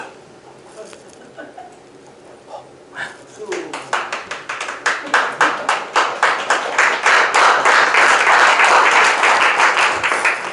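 A church seminar audience breaks into rhythmic clapping to urge the pastor to finish, starting sparse after a quiet moment and then swelling into loud, fast, steady unison claps close by.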